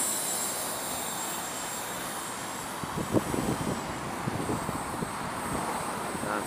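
A small T-Rex 250 RC helicopter fitted with a HeliCommand HC3-SX stabilizer flies outdoors in gusty wind, giving a steady, thin rotor and motor whine over constant broadband wind rush, with a few brief bumps near the middle.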